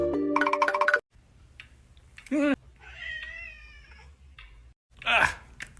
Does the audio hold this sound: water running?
no